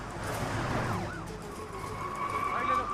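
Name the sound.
police car siren approaching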